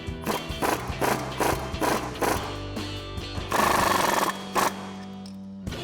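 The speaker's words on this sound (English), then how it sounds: "Now we're going to take a 13mm socket and a thin 17mm wrench to tighten that down." Caliper bolts on a Jeep Wrangler JK big brake kit being tightened with a 13mm socket ratchet and a thin 17mm wrench, producing loud, close bursts of rapid clicking in repeated strokes.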